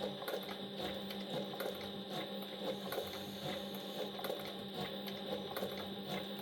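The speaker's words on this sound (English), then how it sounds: "I'm just stitching them up" Hand stitching along a premium leather belt toward the tip, giving a steady, busy texture of small taps and pulls through the leather, close and fairly quiet with a constant background hum and no voices.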